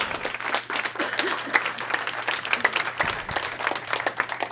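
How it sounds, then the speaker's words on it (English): A room of trainees at a hypnosis training session in San Diego applauds steadily, a close, continuous patter of clapping over a low hum. "Big round of applause"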